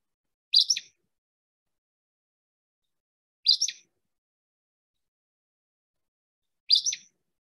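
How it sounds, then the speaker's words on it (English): An Acadian flycatcher gives three short, sharp two-part calls, evenly spaced about three seconds apart, each bright and isolated against total silence. "Acadian flycatcher."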